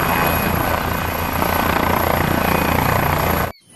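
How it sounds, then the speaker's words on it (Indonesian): A helicopter's rotor chops loudly and steadily at close range, then cuts off abruptly near the end. "Ada helikopter."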